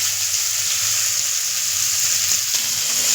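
Potatoes and peas fry in hot oil with cumin in a wok, a steady close sizzle running unbroken throughout with no talk over it.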